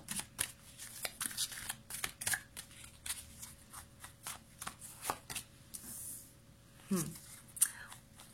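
Tarot cards are shuffled and drawn, producing close, quick riffling, flicking and soft slaps of card stock in uneven bursts, with quiet speech-like sounds mixed in.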